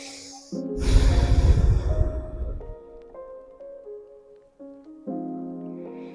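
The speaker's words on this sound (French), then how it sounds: "2 ou 3 respirations pour relâcher davantage à chaque expire." Deep, slow breathing in a relaxation and movement session: a long, loud, airy exhale dominates the first seconds, then softer breath sounds continue under steady low tonal background music.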